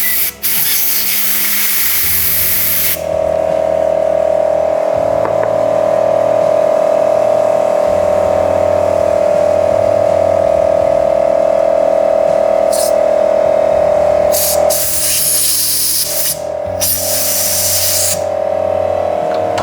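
Air compressor blowing through the fuel pump of a Kawasaki STX160 jet ski, a loud steady hissing spray with a humming drone underneath and several sharp bursts of air near the end.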